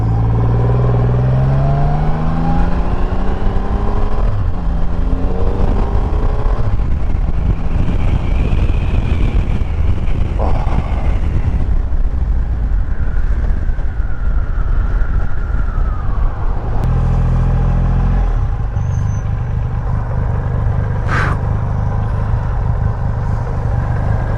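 A 2020 Triumph Rocket 3 GT motorcycle on the move, its 2.5-litre engine a loud continuous roar that rises and falls through gear changes beneath heavy wind buffeting on the microphone.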